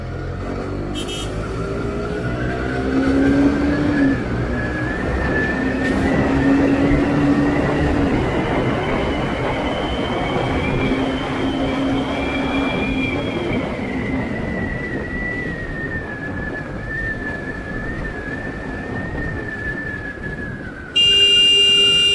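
A group of motorcycles, including a KTM Duke 390, an Apache RR310 and an NS200, rides together on a Sunday morning, with engine drone rising and falling under strong wind rush over about twenty seconds.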